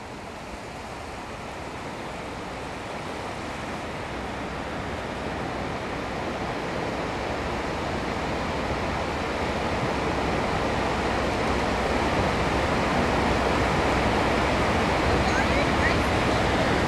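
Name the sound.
rushing water rising in a Universal Studios tour flood effect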